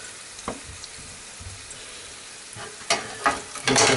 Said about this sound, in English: So just waiting on these in a pot to fry off.